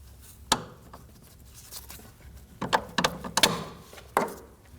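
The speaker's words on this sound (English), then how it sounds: "Now go ahead and just slide the link off" Metal sway bar link being slid off the front strut assembly of a 2011-2016 Kia Optima, heard as a few sharp close clanks and scraping clicks, with a cluster of quick metallic knocks midway and no talking.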